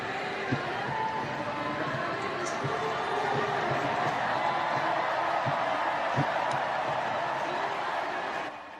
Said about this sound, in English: People cheering, going nuts. Giant crowds.